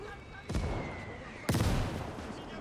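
Mortar fire in the World War II game Call to Arms: Gates, with two heavy booming thuds about a second apart, each rolling out into a long rumbling tail over a steady battlefield background.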